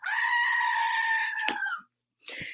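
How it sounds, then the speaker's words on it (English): A screaming goat sound effect plays: one long, loud, shrill bleating scream that cuts off abruptly, followed by a brief pause and the start of a short second cry. "I think that deserves a screaming goat."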